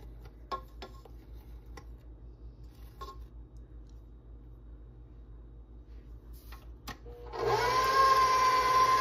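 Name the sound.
electric mixer mixing buttercream frosting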